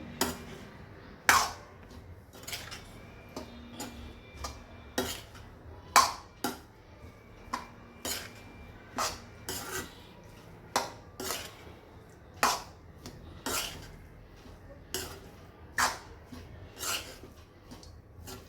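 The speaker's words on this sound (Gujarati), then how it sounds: "આ બધાને સરખું મિક્સ કરી લઈએ" Chopped vegetables and coriander being mixed in a bowl, a spoon knocking and clinking against the bowl again and again in an irregular rhythm, close and fairly crisp, with no talking.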